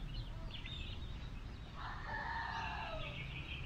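A Golden Boy gamefowl rooster crows once, fairly near, its drawn-out call rising over a steady background of farmyard noise and other distant bird calls.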